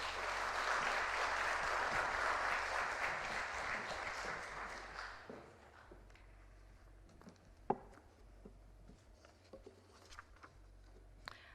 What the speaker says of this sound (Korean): 나오실 때 우리 박수로 또 맞이하겠습니다